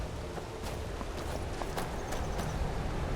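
Horse hooves clip-clop steadily in Skyrim, a fantasy role-playing video game, over a constant low game ambience with no talking.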